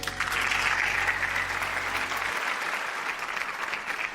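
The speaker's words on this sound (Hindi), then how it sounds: "आपकी भरपूर तालियों में स्टेज पर दावत देना चाहूंगी पाक फजाइया के अजीम आर्टिस्ट ग्रुप कैप्टन SM" A large audience at a Pakistan Army stage show applauds continuously, a thick, even roar of clapping heard close and sustained from start to end.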